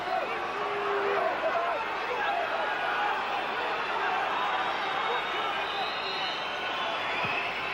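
Big football stadium crowd at a 1996-97 Champions League match between Manchester United and Fenerbahce, a steady dense roar of cheering and noise filling the space throughout, with no clear single voice standing out.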